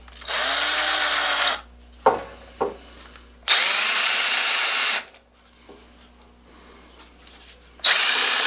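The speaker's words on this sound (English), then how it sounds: "I need to drill a clearance hole for this screw" A power drill bores a clearance hole for a screw in wood while a quilt rack is being made. It gives two loud, sustained whirring runs and a shorter final burst, with brief clicks between them.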